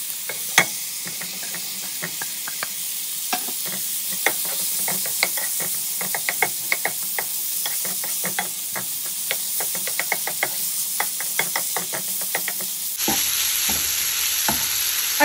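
Sausages fry in a pan for a Mexican-style breakfast, giving a steady close sizzle broken by frequent sharp knocks and scrapes of stirring, with a brief louder shift near the end.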